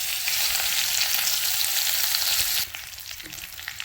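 Mustard seeds and curry leaves sizzle in hot coconut oil for a Kerala lunch curry, a loud steady hiss with crackling pops that drops suddenly to a quieter sputter near the end.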